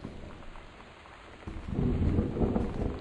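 A thunderstorm in the game Gone Home: rain hisses steadily, then a low rumble of thunder rolls in and grows heavier, lingering as a deep, sustained roar.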